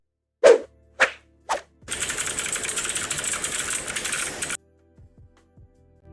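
In the game Escaping From The Dead Planet, a spaceship takes off: three sharp clanks, then a dense buzzing engine roar for about three seconds that cuts off abruptly, followed by a few faint clicks.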